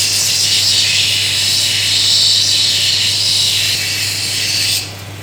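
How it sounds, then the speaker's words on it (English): A continuous high, hissing grind of an agate cabochon against a fine grinding wheel with a low motor hum beneath, stopping abruptly near the end. "I'm just going to go into the fine grinder and get rid of the finer grinding marks"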